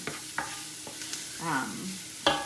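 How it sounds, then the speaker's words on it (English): Onion and minced garlic sauté in a pan with a quiet sizzle. A utensil stirs and scrapes through them in short bursts. "I'm going to go ahead and add 5 cloves of minced garlic to it"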